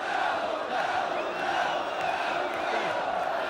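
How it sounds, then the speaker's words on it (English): Belvedere College supporters cheering at a schools rugby match, a continuous crowd roar with shouts and whoops, moderately distant and steady throughout. "The Belvedere supporters, who've had so little to cheer for so far, now certainly giving vent, full expression to their feelings of support"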